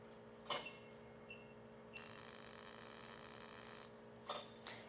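An aesthetic laser device fires in random scan mode: a steady high electronic tone sustains for about two seconds over a low mains hum, with soft clicks before and after.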